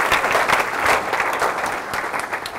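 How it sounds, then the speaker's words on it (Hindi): Church congregation clapping together, dense sustained applause of many hands at steady volume from start to finish. "आसमानों तक आपकी ताली की गूंज जाए"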